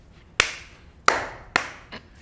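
Three sharp, separate hand claps spaced roughly half a second to a second apart, close and loud in a quiet room, each with a short fading tail, followed by a softer faint tap.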